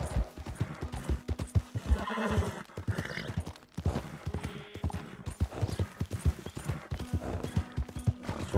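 Hoofbeats of a horse in Red Dead Redemption 2 clip-clop steadily throughout, broken by loud neighs and whinnies, with the horse laboring on a hillside path off the main road as rain threatens.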